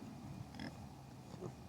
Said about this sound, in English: Listen to that oinking.